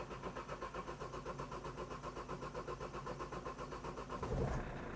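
A car engine on a farm, which has a cracked exhaust, runs with a steady rhythmic chugging pulse, fairly faint, then gives a brief louder burst near the end.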